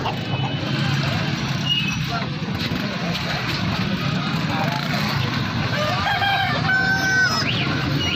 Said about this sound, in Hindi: मुर्गियाँ बतखें।